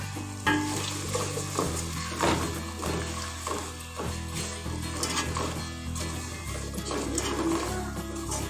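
Tomatoes with salt cooking in fried ginger and garlic, a steady loud sizzle and frying hiss with occasional stirring scrapes, heard close up with no talking.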